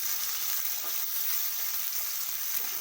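Chopped onion fries in hot oil with a steady, close, even sizzle that holds without pause, and no voices are heard.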